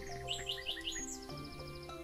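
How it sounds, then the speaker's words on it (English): Birds chirp in the ambient soundscape of the Golf With Your Friends video game, quick bright tweets and trills layered over a steady background, moderately loud and without talk. "A lot of these birds sound like RuneScape."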